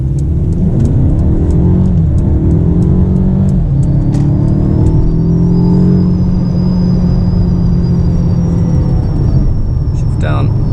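A Mercedes-Benz GLB accelerates at full throttle with traction control on and stability control in sport mode, a loud steady engine drone rising in pitch through the gears, heard from inside the cabin.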